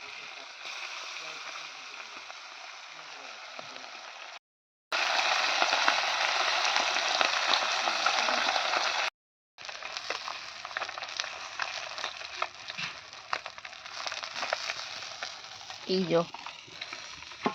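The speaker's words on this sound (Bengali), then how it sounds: "তো চলো মাছগুলোকে একটু ভেজে নিই।" Sea fish, bhutnath, frying in hot oil gives a steady, dense sizzle that fills the whole stretch, broken by two brief cuts, with a short spoken interjection near the end.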